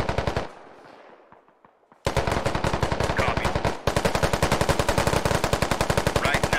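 Automatic weapons fire in the military shooter game Squad: a burst of rapid gunfire that fades, then after a quiet gap two more long, loud, steady strings of shots rattling close by.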